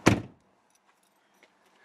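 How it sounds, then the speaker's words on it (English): A car door shut once with a single sharp, close thunk at the start, followed by near silence with faint small rattles. "I gotta close my door"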